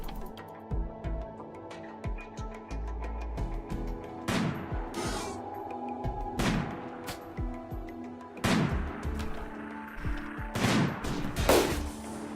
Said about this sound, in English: Okay, minigun, huh?